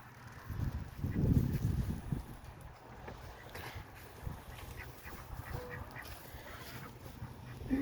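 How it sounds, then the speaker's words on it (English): A gray duck quacks at a backyard poultry coop alongside a chicken tractor, its calls rough and intermittent over a steady outdoor background hum. "Same thing with the gray duck."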